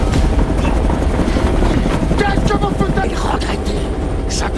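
A helicopter roars loudly and steadily throughout, its dense rotor and engine noise filling the scene with a constant close rumble.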